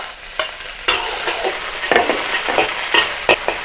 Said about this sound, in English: And stir fry all these aromatics until it's fragrant.